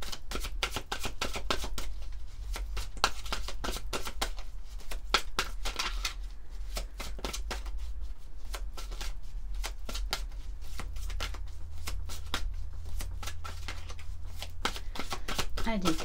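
A deck of cards is shuffled over and over for a tarot-style card reading, with crisp riffling bursts running throughout and a low steady hum beneath.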